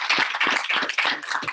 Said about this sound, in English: One more round of applause for our panelists.